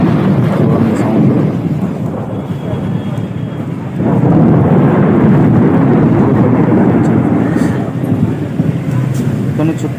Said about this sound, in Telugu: మన ఎలక్షన్ రిజల్ట్స్ రోజు అయితే చాలా పెద్ద తుఫాన్ అయింది